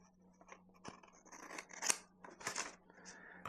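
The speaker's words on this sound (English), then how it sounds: "you're going to take a scissors and you're going to cut right down the middle" Paper is cut with scissors to make a photo zine: a quiet run of crisp snips and rustles, close and isolated, with no talking.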